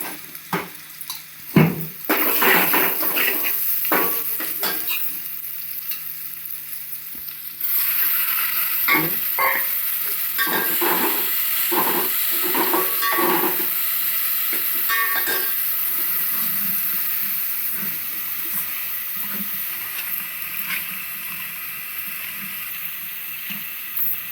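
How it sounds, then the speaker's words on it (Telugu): Chicken curry pieces fry in oil for Telangana style curry, a constant hissing sizzle with intermittent scraping stirs of a utensil against the pan, close and steady. "కొంచెం బ్రౌన్ కలర్ వచ్చే వరకు వేగిద్దాం."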